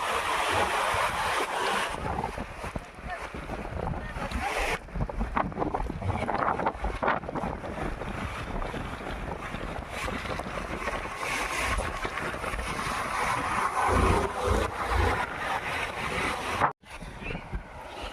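Continuous loud rush of the flooded Banas river's fast-moving water with gusts of wind buffeting the microphone, steady throughout with no talking.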